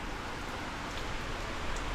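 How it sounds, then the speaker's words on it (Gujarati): Heavy monsoon rain pours down in Surat as a dense, steady wash of broadband hiss, continuous and even with no voices. "જબરદસ્ત વરસાદ આવી ગયો છે."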